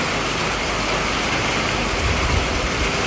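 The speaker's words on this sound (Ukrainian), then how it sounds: "дощара хороший пішов" Heavy rain pours down steadily after a thunderstorm, a dense, continuous broadband hiss that stays loud and even throughout with no voices.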